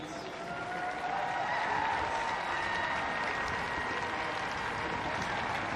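A large crowd in an outdoor arena applauds steadily after a five-star level dressage ride, the clapping swelling in the first second and holding as a dense, continuous roar of hands.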